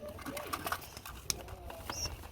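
A pigeon coos softly in low, throaty notes, with faint background noise and a brief sharp click partway through.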